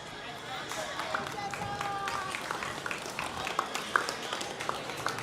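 Audience applause at a swine show in the Schulte Complex: a sustained, fairly distant patter of crowd clapping with faint background voices, steady for several seconds.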